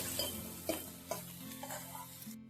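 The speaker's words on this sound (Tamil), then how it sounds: "அதையும் நெய்யில் வறுத்து எடுத்துக்கலாம். நல்லா வறுத்து எடுத்துக்கோங்க." Cashews and raisins frying in ghee with a steady close sizzle, while a spoon stirs and scrapes the pan in several distinct clinks over the continuous crackle.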